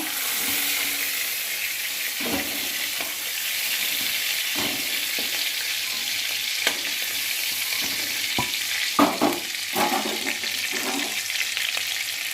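Fish fries in hot oil with a constant bright sizzle, punctuated by scattered pops and a few utensil clinks, close and alone without speech.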